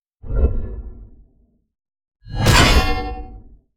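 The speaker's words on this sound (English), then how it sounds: "we have a low-mid whoosh to add some weight and glue them together" Two low-mid whooshes for an aggressive cold weapon, the first short and darker, the second broader and brighter with a harsher rushing edge. Both are loud and heard alone.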